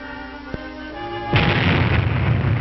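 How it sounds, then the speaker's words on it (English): A test bomb blast strikes experimental houses in a 1954 civil defense test, a sudden loud roaring rumble that bursts in midway and sustains, preceded by a sharp pop over a hum. "then the blast tears away part of each roof."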